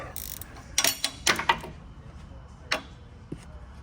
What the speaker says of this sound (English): Let's do a couple turns on these bolts just to make sure they're in pretty good.